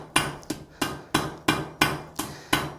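A hammer strikes hot steel on an anvil while forge welding a fire poker with borax flux, seven sharp ringing blows in a steady, even rhythm, close and loud with no talk.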